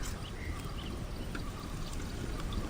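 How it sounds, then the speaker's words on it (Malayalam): Coconut oil poured into a hot urli pot, a steady close-up trickle of liquid running continuously with no voices. "നമുക്ക് ആദ്യം വെളിച്ചെണ്ണ ഒഴിക്കാവേ"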